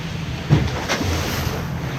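Ocean rollers washing and surging around a sailing boat heading out of a pass off North Tarawa, with steady wind rush and a close splash of water against the hull.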